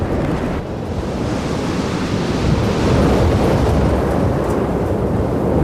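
Roar of a powerful tornado storm passing and receding, a continuous loud broadband rumble like a waterfall mixed with a jet engine, swelling slightly midway and holding steady with no voices.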